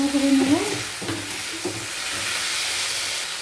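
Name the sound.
stirring chopped tomato with spices in pan for chilli chicken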